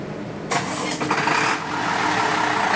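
An emergency generator engine is started by push button: it cranks and catches abruptly, then settles into a loud, steady, close running roar that continues alone.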